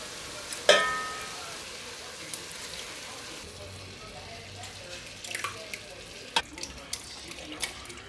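Grease being drained from cooked ground meat and pork for chili, a sharp clatter followed by light splashing, pouring and scattered drips and knocks, fairly quiet.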